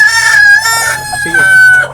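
A hen vocalizes close by with sustained, tonal calls and a few brief cluck-like notes, loud and continuous over about two seconds.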